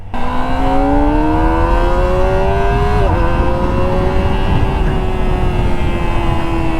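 A 2024 Kawasaki ZX-25R SE, a 250cc four-cylinder sport motorcycle, revs loudly and close by, its shrill engine note rising steadily, dipping briefly, then holding high with no talking.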